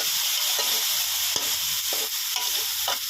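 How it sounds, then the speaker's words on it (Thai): Straw mushrooms with onion and red chili in oyster sauce stir-fry in a pan, giving a continuous close sizzle punctuated by sharp, regular spatula taps and scrapes, with no talking. "แล้วก็ผัดไปเรื่อยๆสักครู่นะครับ"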